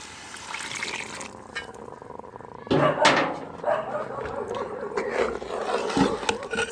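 Water is poured out and back into a pot while cornmeal with gungo peas and ackee cooks outdoors, giving a splashing gush midway, over background noise and outdoor ambience.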